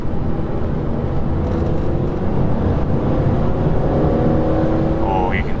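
A BMW E46 M3 on the move, its engine revving with a loud, continuous drone. The pitch climbs steadily toward the end.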